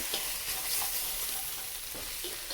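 Chicken stir-fry mixture is stirred around a hot pan for mu shu chicken, with a steady soft sizzle under repeated scraping and tossing sounds, fairly close and continuous.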